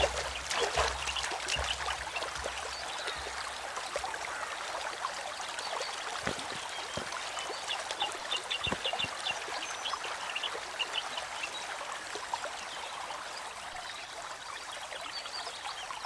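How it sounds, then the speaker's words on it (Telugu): Steady broadband rush of water, such as a waterfall flowing somewhere in a forest, continuous and fairly even throughout with a few faint scattered ticks and knocks, no talk over it. "ఆ సౌండ్స్ విన్నావా? దగ్గరలో వాటర్ ఫాల్స్ ఉన్నాయేమో."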